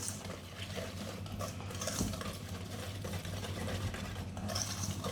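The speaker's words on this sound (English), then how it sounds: "Just give it a quick whisk so that there are no, you can see some lumps" Chocolate cake batter being whisked in a bowl by hand, a steady scraping, stirring clatter that runs continuously at close range with no one talking.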